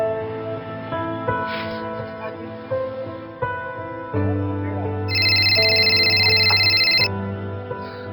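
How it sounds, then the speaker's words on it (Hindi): A phone ringtone rings for an incoming call, a steady bright electronic tone lasting about two seconds over a background music bed, with no speech during the ring. "राजीव, कब से तुम्हें कॉल किए जा रही हूँ, फोन हैंग अप किए जा रहे हो?"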